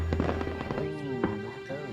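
Fireworks exploding during an evening fireworks cruise, a rapid run of loud crackling bursts and booms that keeps up throughout, with a voice speaking over it.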